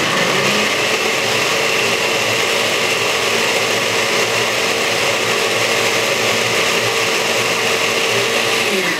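Blender runs loud and steady throughout, churning homemade chocolate malt made with malt powder under a lid, a continuous whirring motor drone with no talk.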